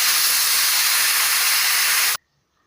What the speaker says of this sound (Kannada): ಕುಕ್ಕರ್ 1 ವಿಷಲ್ ಆಯಿತು